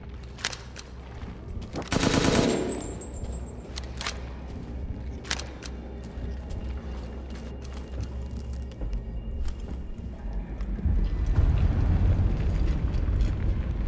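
Gunfire erupts in a Resident Evil 8 boss fight, a burst of rapid shots up front followed by scattered single reports over a rumbling, noisy game soundscape that swells near the end.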